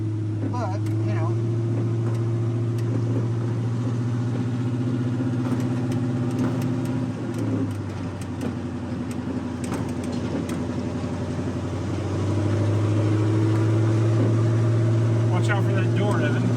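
A 1950 Chevy 1 ton flatbed truck drones loudly while driving, its steady low engine hum and exhaust shifting pitch midway, with people talking inside the cab over the noise.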